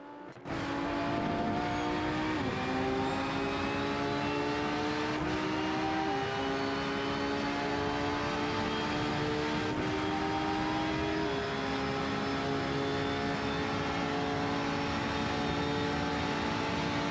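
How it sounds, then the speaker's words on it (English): Hypercar and race car engines roar during an online RENNSPORT racing game event at the Florida Beach 500, with a steady loud engine drone whose pitch climbs and drops through repeated gear shifts. "In slipstream with one of the hypercars coming behind."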